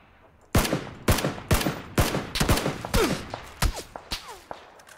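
Gunshots ring out in a shooting video game, about a dozen sharp, loud cracks in an uneven burst of rapid fire, each with a short echoing tail, heard alone.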